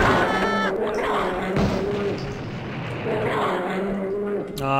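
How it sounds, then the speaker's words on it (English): A napalm launcher fires in the game Blood: Fresh Supply, booming fiery blasts that roll continuously across the clip with thuds and crackling, loud and close. "Oh, and a napalm launcher."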